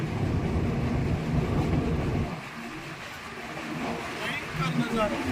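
A train passing through hills in a forest area rumbles past with loud low-frequency roar that drops off midway, then continues more quietly with distant rolling noise.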